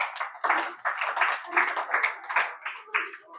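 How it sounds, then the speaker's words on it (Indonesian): An audience in Masjid Jami' Al Ikhlas Tegallembut mosque applauds in a steady, rhythmic run of close hand claps over a few seconds, with voices mixed in. "Tepuk tangan dulu buat kita semua yang ada di sini."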